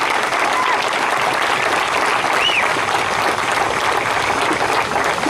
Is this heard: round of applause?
yes